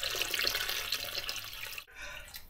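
Water gushes from a tap into a pot for fish soup with potatoes, a loud steady rushing splash that cuts off abruptly near the end, leaving a softer trickle.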